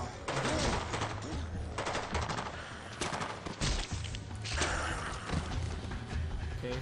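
Bursts of gunfire in the video game Dead Rising 2, irregular volleys and thumps mixed with game sounds, with a voice briefly talking over them.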